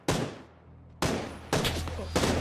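Gunfire in the PUBG video game, with three loud, close bursts of shots arriving about half a second to a second apart, and no speech over them.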